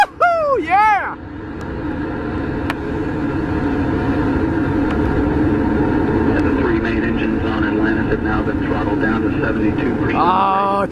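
Space Shuttle Atlantis lifting off on mission STS-132, a broad, steady roaring rumble that builds and holds throughout, heard from a distance beneath excited cheering and shouting voices.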